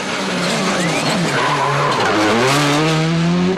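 A WRC rally car from 2007 nears the end of stage 6 with a loud, close engine roar. Sustained tire squeal and skidding run through it, with shifting pitch as the car slides.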